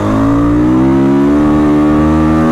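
A 500cc two-stroke enduro motorcycle held at full throttle, its engine roaring loud and close in a steady, high-revving drone with rising pitch and no pause throughout.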